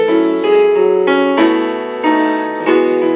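Piano plays a song as loud, sustained chords, with new chords struck roughly every half second to second, ringing close and clear with no voice.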